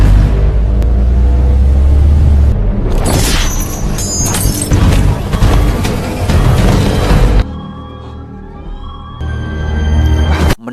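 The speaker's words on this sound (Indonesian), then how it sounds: "Mendengar ada suara tembakan" A gunshot in the action film Hitman: Agent 47 rings out amid loud, dense cinematic sound with booming low rumble and crashes, the mix dropping to a quieter tonal stretch before swelling again near the end.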